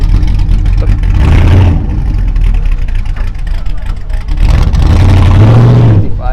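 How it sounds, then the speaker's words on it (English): A loud, deep Chevy truck engine with side exhaust revs and rumbles close by at a car show in two strong surges, with a steady throaty idle between them. "Obviously this truck you can hear right here is just ludicrous. Sounds crazy."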